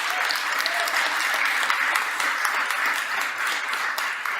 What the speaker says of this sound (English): So I think another round of applause for our awardees.